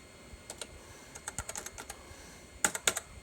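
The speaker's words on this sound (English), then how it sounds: "let's do typing here" Fingers tap on the keyboard of a 1987 Acer 500+ XT computer in an irregular run of clicky keystrokes, with a couple of louder, sharper presses near the end, close and alone in a quiet room.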